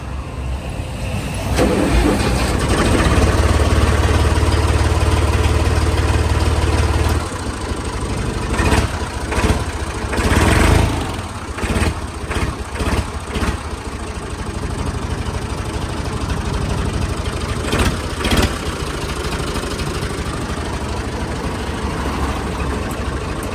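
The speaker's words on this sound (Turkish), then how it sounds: "Motorumuza bir marş verelim." Massey Ferguson 240 S tractor with 1900 hours cranks, fires up loudly, then settles into a steady, rough diesel idle close by, with a few revving surges along the way.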